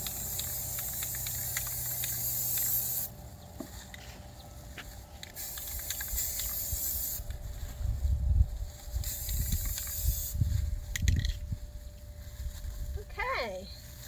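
Spray paint primer hisses from an aerosol can onto tumbler cups in several separate bursts of a few seconds each, with quiet handling noises and low talking between the sprays.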